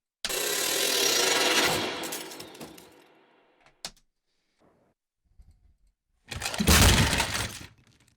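A loud crash sample plays in Ableton Live: a bright, shattering burst that swells and fades over a few seconds, then a sharp click, near silence, and a second dense crash burst.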